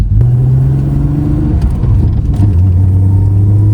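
A Nissan R32 Skyline GT-R with a new 800 hp gearbox drives along, its engine droning loud and close in a steady mid-pitched rumble that dips and rises again as the revs shift.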